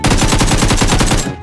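Rapid automatic gunfire in a video game, a loud burst of about a dozen evenly spaced shots in under a second and a half, close and alone, ending abruptly.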